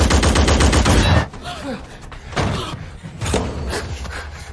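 Rapid bursts of gunfire in a Transformers: Rise of the Beasts battle between Terrorcons and Autobots, a loud dense volley for about a second followed by scattered impacts and clanks.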